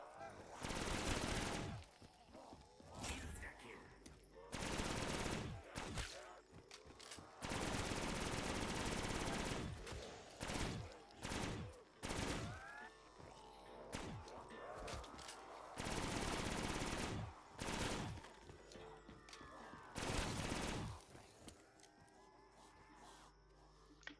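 Automatic gunfire in Black Ops 3 Zombies, with long sustained bursts and short volleys repeating across the stretch, loud and close, using an insta-kill power-up and Mustang and Sally pistols.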